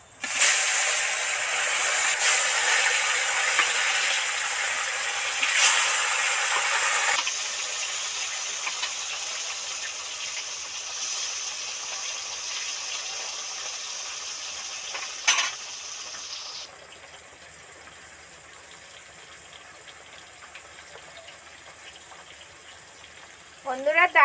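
Bata fish sizzles loudly as it goes into hot oil with turmeric. A bright hiss bursts at the start, then fades in steps into a softer, steady frying crackle, with a voice briefly audible.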